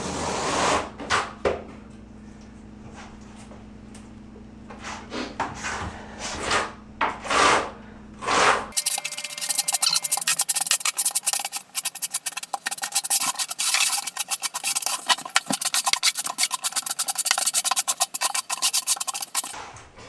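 The back side of a trowel scrapes and rasps thinset into the waffles of a Schluter Ditra membrane for a wood-look plank tile floor, first in short separate strokes, then as continuous close gritty scraping.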